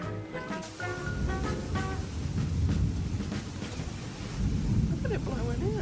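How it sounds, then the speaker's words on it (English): Light drizzle with a thunderstorm rumbling outdoors during a severe thunderstorm warning, a steady hiss and low rumble with wind, and a person speaking briefly over it. "just a small drizzle"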